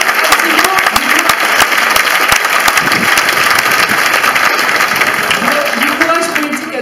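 Loud, dense applause from a large crowd at a French political event, continuous clapping that holds steady throughout and fades slightly at the end.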